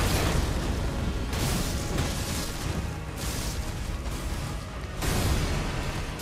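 A boss in Elden Ring unleashes an area-of-effect spark attack: a loud, dense crackling roar of bursting blasts rolling on continuously, with surges near the start and again toward the end.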